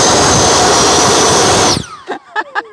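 A 90mm FMS Avanti S model jet's ducted-fan engine roars loud and steady up close, then abruptly cuts and winds down in a falling whine, followed by short bursts of nearby voices.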